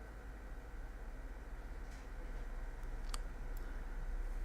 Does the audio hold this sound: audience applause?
no